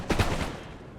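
A musket volley in Napoleon Total War crackles as several overlapping shots in quick succession, then rolls off into a fading rumble over about a second, with no voices.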